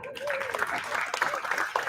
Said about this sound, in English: Another round of applause for all of our National Junior Honor Society members